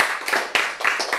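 An audience in a church lecture hall claps loudly in a few distinct bursts, with each wave of handclaps rising and falling in quick succession.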